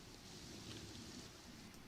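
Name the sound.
rain in video game The Sims 4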